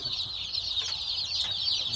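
Young chickens in a brooder make a steady high chirping and clucking chatter, close and continuous over a short stretch.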